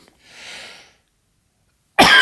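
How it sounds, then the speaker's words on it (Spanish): A person coughs in a muffled burst, then after a pause a second, louder and harsher cough breaks in close to the listener, with no talk around it. "Vaya tela con la tos."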